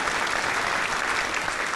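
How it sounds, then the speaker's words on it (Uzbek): A comedy-show audience clapping for Sitora, a dense, steady burst of applause from a crowd, loud and close, with no speech over it. "Qarsakinglar Sitoraxonga."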